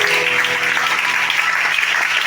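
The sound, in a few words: congregation applauding in church service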